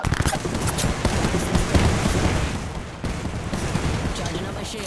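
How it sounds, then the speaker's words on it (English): A grenade blast in the Apex Legends battle royale game, set amid dense, continuous gunfire and booming explosions that stay loud and cluttered throughout, with a brief dip near the middle before the barrage resumes. "Grenade, look out."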